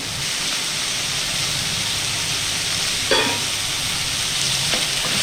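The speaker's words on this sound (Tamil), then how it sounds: "தக்காளி வெங்காயம் வதங்க எப்போதுமே கொஞ்சம் உப்பு சேர்த்துட்டா நல்லா வதங்கும்" Tomato and onion sautéing with salt in a pan for a white kurma: a steady, even sizzle runs throughout, with a brief scrape near the middle and another toward the end.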